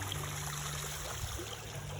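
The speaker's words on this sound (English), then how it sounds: "The water, nice water fountain" A garden water fountain on a wedding venue's grounds trickles and splashes steadily, faint and continuous, with a low hum behind it and no talking.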